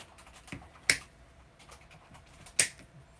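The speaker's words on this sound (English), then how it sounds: "You guys can hear him typing in the background." A few soft key taps, with two sharper clicks standing out, sounding faint and somewhat distant in a quiet room.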